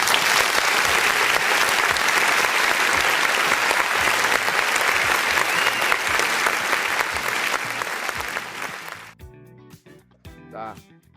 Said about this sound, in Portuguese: Uma chuva de palmas para Jo Levi.